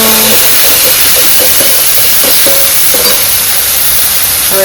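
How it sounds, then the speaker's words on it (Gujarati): Tomatoes fry in a hot pan with mustard seeds, curry leaves and asafoetida, giving a loud, continuous sizzle and hiss with faint clinks of stirring, close up and with no talk. "બધા ટમેટા નાખીને હલાવી નાખશું।"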